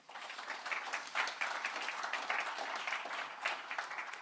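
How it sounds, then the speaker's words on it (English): An audience applauds steadily, many hands clapping in a dense, even patter that stays fairly constant throughout. "Round of applause, please."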